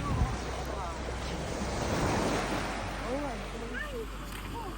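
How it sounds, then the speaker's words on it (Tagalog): Ocean surf and gusting wind on a beach in Batangas, a broad continuous wash of waves with buffeting wind on the microphone and a low rumble underneath, heard close and steady, with faint voices drifting through toward the end. "Sa may dalampasigan, pakinggan ng karagatan, at ang hangin"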